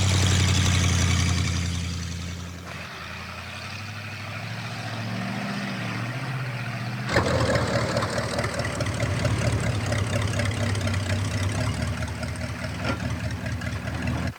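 Engine of a 1952 Dodge Transporter truck running steadily, close and loud, with a rough low rumble that shifts in tone partway through and carries on continuously, with no voices.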